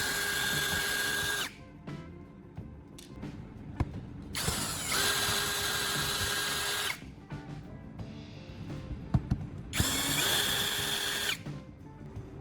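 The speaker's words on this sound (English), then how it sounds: "A power drill made this task quick and efficient, carefully detaching each screw." Power drill backing screws out of the bottom panel of an induction cooker: three short bursts of whirring, close and fairly quiet, separated by clicks and small handling sounds.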